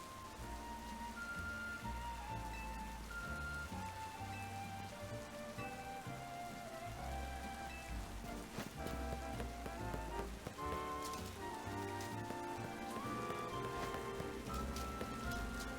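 Steady rainfall and splashing in the Pokemon Legends Z-A video game, a continuous patter heard under melodic game music that plays throughout.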